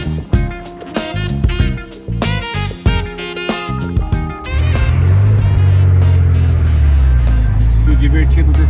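An original Porsche 930 Turbo pulls away. Clattering mechanical sounds and a voice come first, then a loud, steady engine roar swells in about halfway through and holds to the end.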